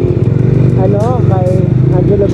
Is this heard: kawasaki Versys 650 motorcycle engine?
yes